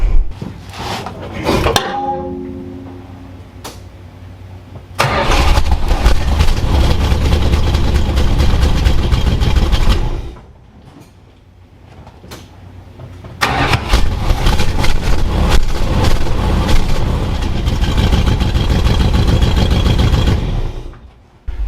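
A Plymouth Volare engine cranks and catches, then runs at a loud, steady idle through a fallen but still muted exhaust, briefly dropping away before starting up and idling again.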